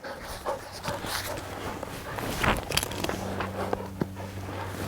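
A gun dog puppy pants and whimpers softly during a training session outdoors, with a few brief yelps and low background hum, while a trainer's voice gives occasional praise.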